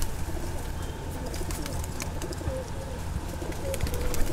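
Low coos from Prince Golden pigeons repeat over a steady bed of rustling and background noise, with scattered faint chirps higher up.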